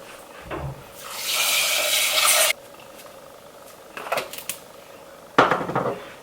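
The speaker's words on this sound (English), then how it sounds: "I'm going to wash this rice quickly." Rice washed with water in a cooking pot: a sustained rush of running water and swishing, followed by short splashy stirs and clinks, close and fairly loud with no talking.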